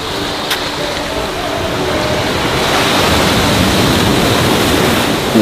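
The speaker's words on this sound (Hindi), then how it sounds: "समुद्र" Steady roar of sea surf breaking along the Trivandrum coastline in Kerala, a continuous broad wash of waves that swells slightly louder midway, with no voices.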